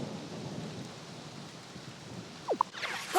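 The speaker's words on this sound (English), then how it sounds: "Except for the 8 inches of rain." Heavy rain pours over the Metro Kingdom city in Super Mario Odyssey, a steady close hiss of downpour with a few short chirpy tones breaking in near the end.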